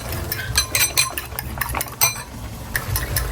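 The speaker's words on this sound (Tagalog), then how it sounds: "Babati na din ako ng 3 itlog." A fork or whisk clinks rapidly against a bowl as three eggs are beaten, in quick uneven strokes, close up with a low background hum.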